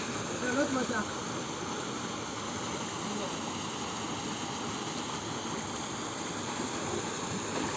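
Small hidden waterfall in a forest at Uthukkottai, a steady broadband rush of falling water filling the whole stretch, with faint voices briefly over it near the start.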